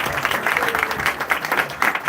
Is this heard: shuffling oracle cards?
no